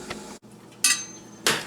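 Vegetables go into a steamer pot set over boiling water, with a few sharp metallic clinks and clatters of the pot and basket close by against a quiet background.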